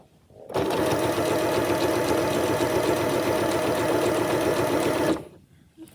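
A sewing machine stitches binding onto a quilt in one steady, rapid mechanical run of about five seconds. The whirring is loud and close, with quiet before it starts and after it stops.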